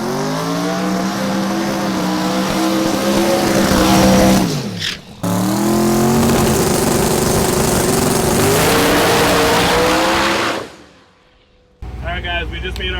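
A Pro Mod drag race car makes a pass, its engine howling loud and steady for several seconds with a brief drop between gears, then cutting off before a second engine note rises at the end.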